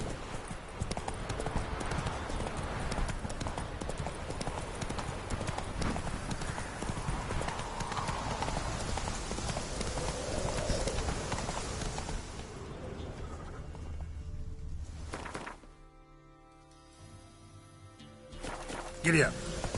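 Hooves of Roach, a horse in the video game Witcher 3, clip-clop in a steady rhythm at moderate volume under a voice, then fade toward quiet near the end before a brief louder burst.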